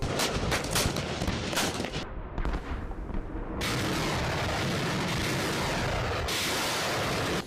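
Bombs and artillery shells pound during a large Iranian military exercise in the west of the country, with rapid rolling blasts and booms merging into a loud, continuous roar of fire.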